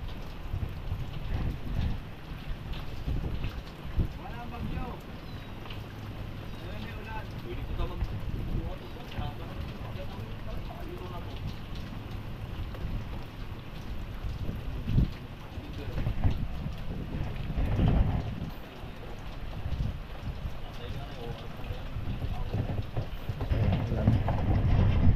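Steady rain falls outdoors as a constant broad hiss with low rumbling underneath, while people talk over it.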